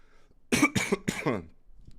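A short burst of three or four harsh coughs in quick succession, close and fairly loud, then quiet.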